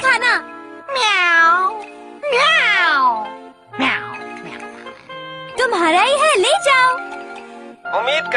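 A cartoon cat meows repeatedly in loud, bright, sweeping calls over a steady musical background of chimes and tones, with gaps between the bursts.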